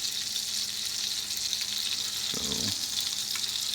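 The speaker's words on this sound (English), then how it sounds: "got the good sear going on each side of the foie gras" Foie gras sears in a hot pan with a steady, even sizzle throughout, and a brief lower clatter of handling near the middle; a voice begins to speak for a moment.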